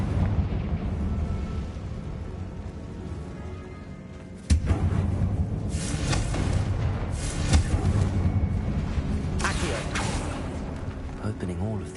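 A Confringo fire spell bursts in the video game Hogwarts Legacy with a sudden loud blast, followed by rolling, rumbling fiery booms and crackles over continuous game ambience.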